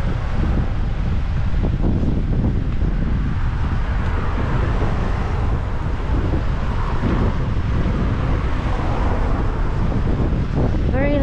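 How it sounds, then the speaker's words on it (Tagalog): A cold wind blows outdoors in a small town in Bolton and buffets the microphone with loud, steady, rumbling gusts that fill the whole stretch without letup. "Ang lamig ng hangin."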